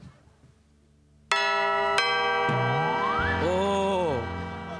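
A doorbell rings in a Marathi comedy sketch: two sharp bell strikes followed by a loud, sustained chiming tune with sliding, wavering tones. It plays clearly and alone.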